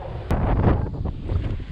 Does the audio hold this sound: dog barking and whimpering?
no